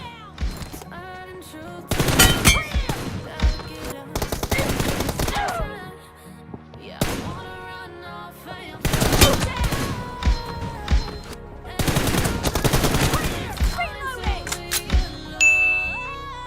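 Video game gunfire from BGMI/PUBG Mobile comes in several loud sprays of rapid automatic shots, each lasting a couple of seconds, separated by quieter gaps with metallic clinks and game sounds.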